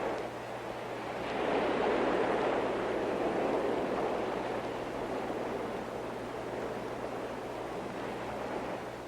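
Ocean waves breaking on a sandy beach, a broad steady roar of surf that swells after a few seconds and then rolls on evenly, with a low constant hum underneath and no voices.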